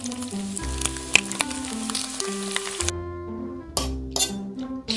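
Eggs frying in a pan give a bright hiss under a bouncy, stepping melody. The sizzle cuts out partway through and returns near the end, with a few light clinks.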